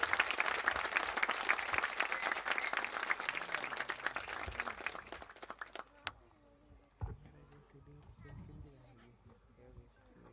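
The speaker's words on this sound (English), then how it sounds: "Dear parents, a bigger round of applause," Parents applaud at a children's annual concert, a dense burst of clapping that fills the first six seconds and then cuts off, leaving a quieter stretch with faint scattered sounds.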